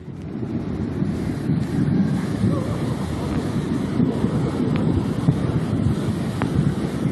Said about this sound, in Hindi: जिसके नीचे से बहने वाले पानी का सैलाब इतना तेज है कि मानो अपने साथ सब कुछ बहा कर ले जाएगा